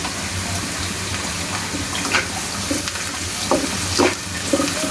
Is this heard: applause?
no